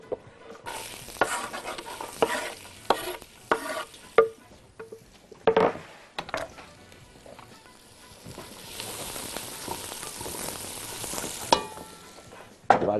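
Onion frying in olive oil in a pan, a close crackling sizzle broken by several loud scraping stirs and clatters of a utensil against the pan.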